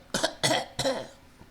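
Three short, forced fake coughs from a nearby voice, imitating the pointed cough a passer-by aims at someone smoking outside, evenly spaced with brief gaps.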